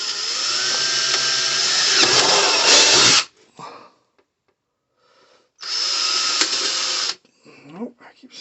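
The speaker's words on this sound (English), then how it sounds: "I'm going to just go ahead and drill the rear ones" A power drill whirs in two loud, sustained bursts, the first about three seconds and the second shorter, separated by a quiet gap with faint movement.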